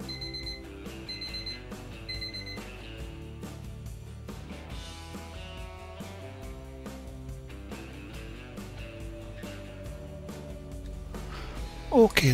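A kitchen timer goes off during blue cheese making, sounding a few quick, bright beeps at the start, followed by steady background music.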